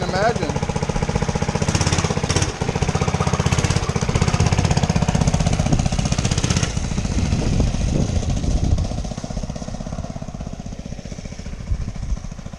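A Baja Warrior minibike engine sputters to life after the first pull, chugging loudly with a rapid knocking rhythm up close, then settling into a rougher, quieter idle toward the end as people talk nearby.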